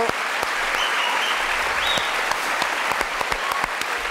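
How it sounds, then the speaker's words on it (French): A studio audience applauds steadily throughout a French television show, dense clapping at a constant level with a few sharper individual claps standing out, no voices above it. "Applaudissements Bravo"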